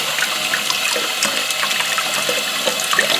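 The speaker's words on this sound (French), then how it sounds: "On va rincer ça." Tomato seeds being rinsed under a running kitchen tap, a steady close hiss and splash of flowing water with small bubbling and spattering throughout, no voices.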